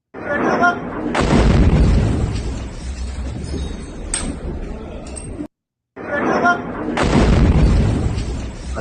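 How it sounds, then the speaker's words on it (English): Booming bomb explosions landing in war footage, each one a loud, deep, sustained rumble of blast and debris, with a brief cut of silence before a second similar blast. "Some bomb from somewhere."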